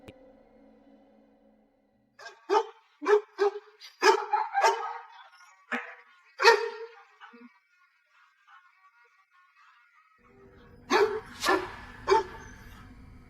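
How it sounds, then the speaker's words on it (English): A German Shepherd barks at night beside a railing, delivering a run of sharp, loud barks in uneven clusters with pauses between, then another burst near the end. "We see a German Shepherd intensely focused on something just beyond the railing, its body language suggesting a high state of alert and confusion as it barks at the empty air."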